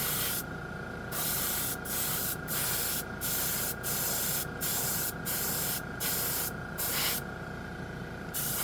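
An airbrush sprays Tamiya chrome paint in a steady hiss, broken into a run of short regular bursts about a second long with brief gaps between them, close and fairly loud.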